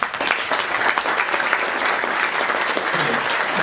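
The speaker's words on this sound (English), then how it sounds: "Can you please now clap as if you're excited but wary?" An audience claps steadily throughout, a dense, even wash of applause with no clear build or fade and no voices over it.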